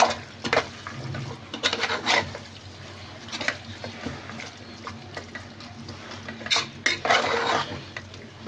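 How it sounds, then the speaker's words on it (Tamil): Mutton pieces are stirred in a metal pot with a spoon, giving scraping and clinking strokes at an irregular pace over a soft sizzle, close and fairly loud, with no voices. "மட்டன் ஆட் பண்ணுறேன் ஃப்ரெண்ட்ஸ். இதை நல்லா கலக்கி விட்டுக்கலாம்."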